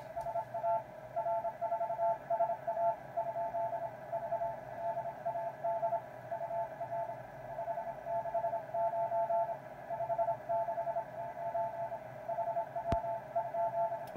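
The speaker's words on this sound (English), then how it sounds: "I think he's calling CQ, but I don't know, because I don't know Morse code." Steady repetitive beeping tones on a single pitch, a Morse code CQ call keyed over a radio, running continuously amid faint background hiss.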